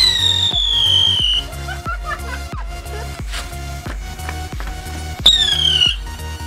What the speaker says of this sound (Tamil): அடுத்து நம்ம வெடிக்க போகிற கிராக் வந்து பார்த்தீங்கன்னா சிங்கிங் ஸ்பின்னர் அப்படின்னு சொல்கிற கிராக்கர் வந்திருக்கு.